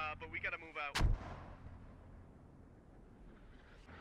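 A single heavy gunshot booms in the game Squad, followed by a long fading rumble, with brief voice chatter just before it.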